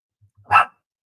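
A puppy gives a single sharp, close bark, preceded by a couple of faint low huffs, with no talk over it.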